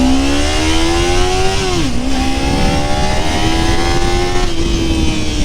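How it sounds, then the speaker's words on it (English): A motorcycle engine revs loud and close as the clutch is let out in first gear, a steady droning tone that dips briefly then climbs again under added throttle. "I'm in first gear, slowly letting the clutch out. I start going forward, the engine's bogged down, it needs some throttle."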